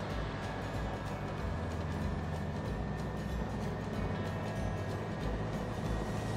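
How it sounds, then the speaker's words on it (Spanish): Lada Niva engine pulling hard up a steep hill in fourth gear at full throttle, a steady low drone with road rumble heard from inside the cabin, even and unbroken throughout. "Va el motor muy fino."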